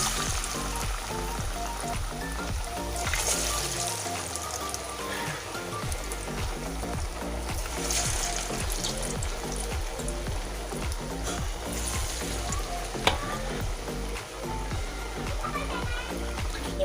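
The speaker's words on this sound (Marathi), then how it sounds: "आपण ही आता कोथिंबीर वडी एक एक तेलामध्ये सोडूया." Coriander fritters (kothimbir wadi) dropped one by one into hot oil for frying, giving a steady dense sizzle and crackle throughout, loud and close, with no talking over it.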